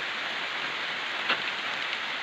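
Heavy rain pouring steadily, a dense continuous hiss with no talking.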